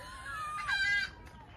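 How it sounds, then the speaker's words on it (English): A hen in a vegetable garden clucks and squawks loudly, a drawn-out rising and falling call with a sharper burst in the middle, heard at moderate distance over faint outdoor background. "What is that chicken doing? She's shouting her feathers out."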